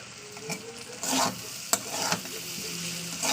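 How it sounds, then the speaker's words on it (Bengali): Egg and potato curry base sautéing in oil over low gas, with a steady broadband sizzle and a few sharp scrapes and clatters of a spoon against the pan, close and fairly quiet, no talking. "এবার গ্যাসটাকে একটু আস্তে দিয়ে দেবো দিয়ে একটু কষিয়ে নেবো এই তেলের সঙ্গে কষে নিতে হবে"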